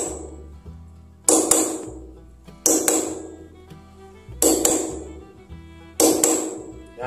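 Gentle metal hammering while working a pattern into a surface: four separate strikes, each a bright ringing ping that decays over about a second, spaced roughly 1.3 seconds apart, close and fairly clear with no talk.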